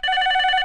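A telephone rings once in a short, steady electronic tone, loud and close, with no voices over it.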